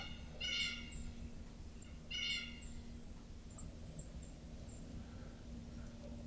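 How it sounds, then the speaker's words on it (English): A wild turkey in a big flock gobbles twice in quick bursts at a distance in Ozark woods, faint against steady outdoor background noise, with scattered soft bird calls following. "Big flock of turkeys."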